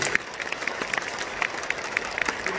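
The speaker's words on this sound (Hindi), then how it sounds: "तालियां बने भरपूर मन में, मन करके तालियां बने।" An audience at a Hindi kavi sammelan poetry gathering applauds, continuous crowd clapping at moderate distance with a few sharper individual claps standing out.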